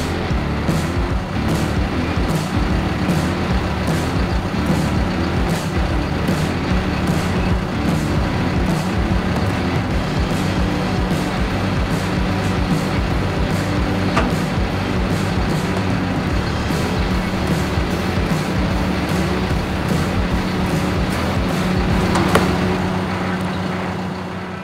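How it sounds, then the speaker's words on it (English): Heavy telehandler on solid tires, boom extending straight out, giving a steady loud engine and hydraulic drone with a low constant hum and faint intermittent clicks throughout. "We're just gonna go straight out with the boom, and we're gonna wait and see when the rear tires of the machine start to tip up off the ground."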